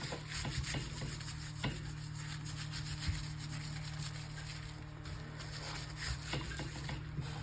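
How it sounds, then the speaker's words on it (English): Paint rubbed by hand over small plant pieces laid on wet strength tissue paper, giving a continuous close, soft scrubbing texture with a few faint taps and knocks, no voices. "we rub all this good paint. Rub it around all our little plant pieces."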